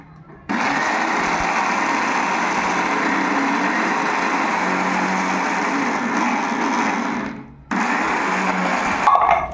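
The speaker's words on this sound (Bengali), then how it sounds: "চলেন যাই, এই চালটা গুঁড়া করে নিয়ে আসি আগে।" An electric grinder whirs loudly and steadily while grinding rice into flour, switching on after a brief pause, running for several seconds, cutting out briefly, then starting again.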